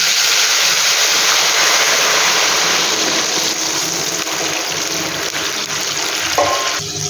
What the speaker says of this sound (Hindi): अब इस पॉइंट पे हम इसमें अपनी यखनी शामिल करेंगे।